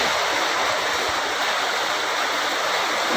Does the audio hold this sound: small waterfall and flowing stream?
yes